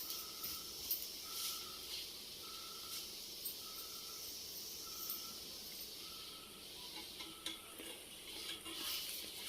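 A pesarattu, or moong dal dosa, frying on a pan makes a faint, steady hiss and sizzle, with no voices.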